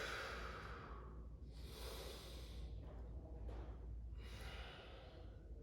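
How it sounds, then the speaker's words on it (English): Slow, deep breaths drawn in and let out through the nose during a hip stretching session, heard close and soft as several long airy swells with no talk. "take some deep breaths in through my nose"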